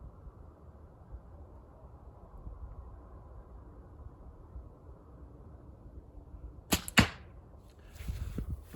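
An arrow leaves a bow and strikes a bullseye target with a sharp, close impact, preceded by a quiet outdoor stretch and followed by soft low rustling.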